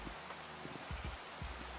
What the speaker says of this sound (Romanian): Și bă, a început ploaia